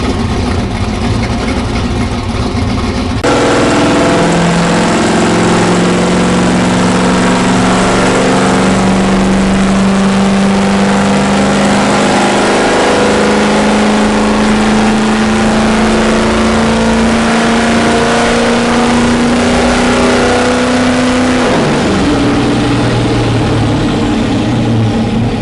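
A car strapped down on a dyno, its engine droning loudly and steadily through a long rising pull after a brief idle, then dropping back off near the end, with no talk over it.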